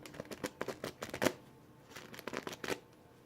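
Folded sheets of standard printer paper being handled and shuffled in a stack, giving a series of close, quick papery riffles and flicks in uneven bursts, with no voices.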